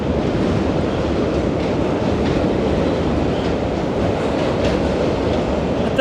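Long train rolling past close by, its carriages giving a steady, loud clatter and rumble with faint clickety-clack from the wheels throughout, no voices.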